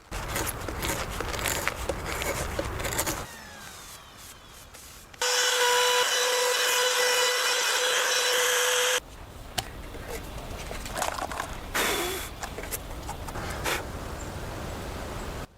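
A steady orbital sander whine runs for several seconds between bursts of hatchet scraping and chopping while debarking oak logs, loud and close.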